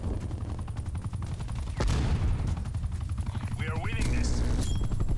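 Call of Duty Black Ops Cold War match with dense rapid gunfire and a helicopter killstreak churning overhead, constant loud bursts layered over low rotor rumble, with brief electronic game cues near the end.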